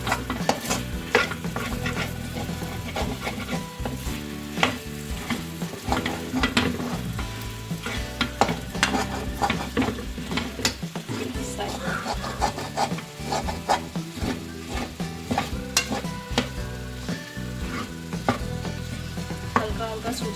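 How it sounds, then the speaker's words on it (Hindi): Semolina halwa is stirred and scraped in a pan with a spoon, making continuous rapid rasping scrapes over a low sizzle, close and busy throughout with no talk. "चम्मच चलाते रहें और नीचे से खुरचते रहें इसको"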